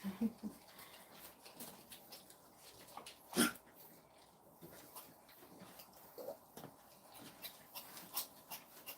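French bulldog puppies whimper and yelp faintly in short scattered bursts, with soft pattering movement in a quiet room.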